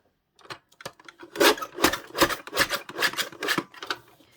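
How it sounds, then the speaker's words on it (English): Packaging paper is trimmed on a paper guillotine, making a quick run of crisp, close cutting and slicing sounds, about ten short bursts in an uneven rhythm, with no talk. "I'm going to trim that with my guillotine"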